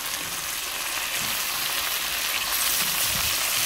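Chicken tikka pieces sizzle steadily in a pan for butter chicken tikka, a dense, even crackle of frying fat that holds at constant loudness with no break and no voices.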